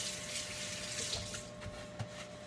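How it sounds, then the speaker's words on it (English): Running tap water rinses hands at a kitchen sink, a steady close hiss of flowing water with small splashes and shifts as hands move under the stream. "I'll just give my hands a little bit of the rinse."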